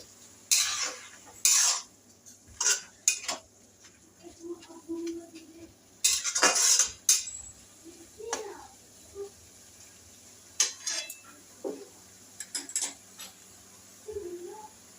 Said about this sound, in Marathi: मीठ टाकून आपल्याला ही भाजी अशी छान परतून घ्यायची आहे